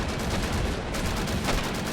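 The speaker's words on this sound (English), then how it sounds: "Large AT cannon." Anti-tank cannon and gunfire during a 1945 Iwo Jima naval invasion battle in Men of War: Assault Squad 2, a dense, loud, continuous wash of shots and blasts with no pauses.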